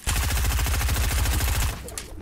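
Rapid automatic gunfire from a Fortnite match, a dense unbroken burst of loud shots rattling for about two seconds before cutting off.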